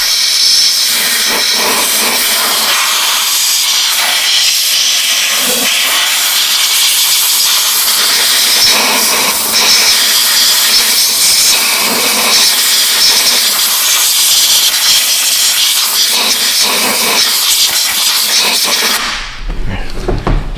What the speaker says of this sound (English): Grab your blow nozzle.